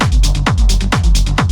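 A loud, filtered dub techno chord stab made in Ableton pulses in a repeating rhythm, each hit trailing into echoing delay repeats, with a deep bass thump beneath.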